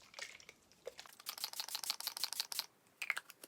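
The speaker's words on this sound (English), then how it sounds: "So I'm going to use the Urban Decay All Nighter setting spray." Urban Decay All Nighter setting spray is pumped in a quick series of short, faint, close spritzes, with a couple of isolated puffs before and after the burst.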